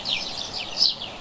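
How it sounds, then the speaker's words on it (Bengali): Cartoon birds chirping, a short burst of light high tweets close by, with no talk. "পাখির কিচিরমিচির"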